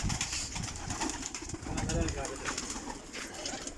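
Purebred breeding-pair pigeons from a champion breeder's loft coo in repeated low throaty bursts, close by, with faint human voices underneath.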